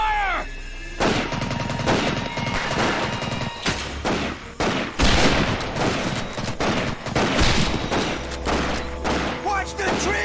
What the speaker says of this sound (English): Sniper! Take cover! Suppressing fire!